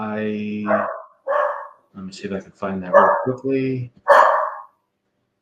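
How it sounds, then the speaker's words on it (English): A pet dog barks in a home, several loud barks in an irregular series, heard between and over a person talking. "Sorry, that's my dog."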